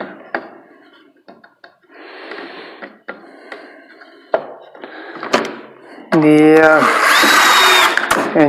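A power drill drives 1-inch screws through 1x4s into a folding wooden sawhorse, heard as a close, loud rising whine in the final seconds after scattered knocks, taps and handling sounds of wood and tools.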